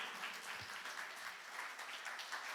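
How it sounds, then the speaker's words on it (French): A church congregation at a Pentecost celebration applauds, a soft, distant wash of many hands clapping steadily for a couple of seconds. "On peut applaudir Jésus."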